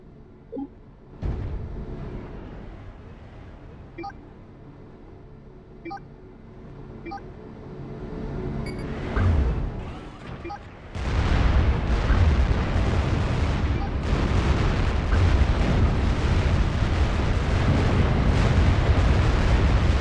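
Tank and Titan assault bot battle in the Supreme Commander 2 video game, with rolling explosions and booming weapon fire that start sparse and then build into a dense, continuous roar of combat.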